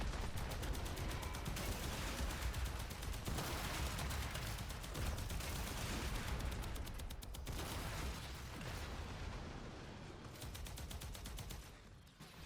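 Rapid, sustained arc gun fire in the Warframe Profit-Taker fight rings out loud and continuous across the whole stretch, with dense bursts, brief gaps near the middle and a slight easing toward the end.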